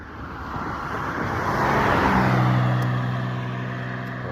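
An old-style car drives past close by, a steady broad roar swelling to a peak mid-pass with a low engine hum, then easing off as it moves away, with no voices.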